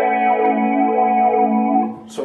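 An electric guitar chord rings through a TC Electronic Vortex Flanger pedal set to negative feedback, a sustained swirling, hollow sweeping tone that fades out near the end.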